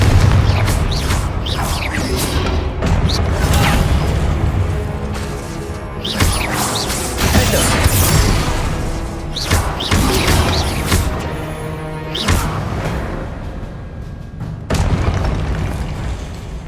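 Repeated heavy Confringo spell blasts in Hogwarts Legacy, loud booming explosions and crashes one after another with brief lulls, no talking.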